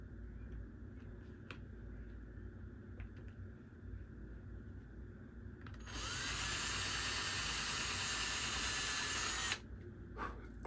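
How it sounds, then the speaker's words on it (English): A power drill whirs loudly for several seconds, drilling into wood, preceded by faint clicks and handling noises in a quiet room. "If I don't use a big enough drill bit here, I'm going to split this."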